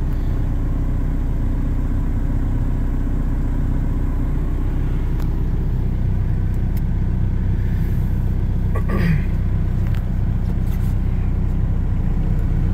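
A 1991 Toyota pickup with a swapped-in TDI diesel engine idles on a cold 20-degree day, a steady, close low rumble that holds evenly throughout with no break in the engine note.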